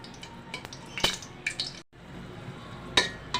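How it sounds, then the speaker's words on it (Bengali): Dried chillies fry in a little oil in a pan, giving scattered close pops and crackles over a faint sizzling hiss, with a brief pause midway and no speech. "সামান্য তেল দিয়ে দিলাম কয়েকটা শুকনো মরিচ একটু ভেজে নিচ্ছি"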